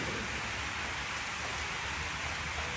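Steady rain pouring down outdoors at a public political meeting, a dense continuous hiss that stays even throughout, with no voices heard.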